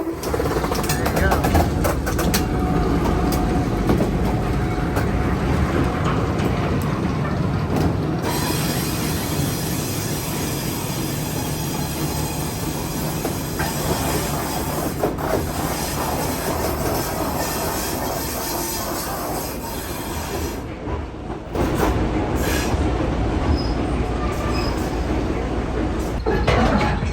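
A historic railroad train rolls slowly along the track at about 10 miles an hour, with steady loud rumbling, clacking wheels and some squealing, and a brief lull near the end before the noise resumes.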